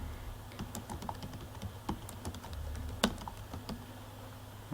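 Keys on a computer keyboard are tapped in a quick, uneven run of light clicks while text is entered, close and alone with no talk.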